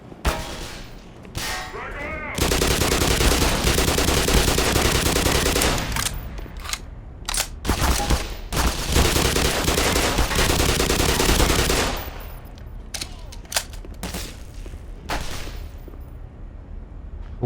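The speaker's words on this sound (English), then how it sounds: "Who else is shooting at me?" Video game gunfire in an underground facility, dense sustained bursts of automatic shots with clanging impacts, loud and close, broken by short pauses and continuing in sporadic volleys.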